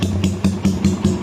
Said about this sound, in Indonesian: itu tadi knalpot DPJ versi GP1